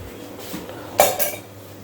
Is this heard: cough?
no